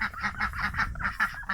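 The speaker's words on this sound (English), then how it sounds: "these are the 4 peanut butter brown buff Orpington ducks" Buff Orpington ducks, peanut-butter brown, give a close, loud run of rhythmic honking quacks, about six calls in quick succession with no talk over them.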